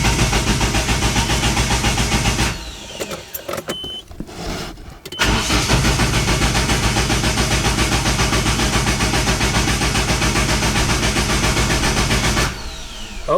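Forged-engine Nissan 240SX cranking over and firing on its first start, a loud steady rhythmic starter churn that breaks off briefly, then the engine catches and settles into a rough, even idle before fading at the end.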